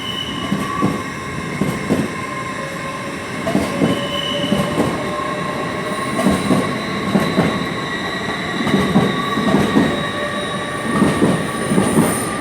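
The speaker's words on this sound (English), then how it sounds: "Also departing out is the 1029 service to Bristol Temple Meads. 800-317." A Class 800 train departs London Paddington for Bristol Temple Meads, wheels clicking over rail joints in steady rhythmic clusters under a sustained engine hum and faint squealing tones.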